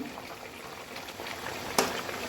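Potatoes bubbling in an open pot of water just after the lid comes off, a soft steady simmering hiss with a brief sharper clink partway through, fairly quiet and without voices.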